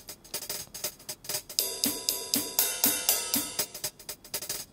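A programmed hi-hat pattern in Bitwig Studio ticks in fast, regular electronic hits over a steady beat with low thumps, growing fuller partway through, with no talking.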